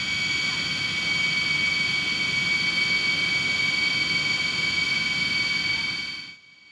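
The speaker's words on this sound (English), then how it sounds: "except for the Russian luxurious airplane itself. Well kept and nicely furnished, short of its particularly noisy engines" Steady, loud roar of a Russian luxury airliner's particularly noisy engines in flight over Libya, heard from inside the well-furnished cabin, with a constant high whine above a broad rumble that cuts off near the end.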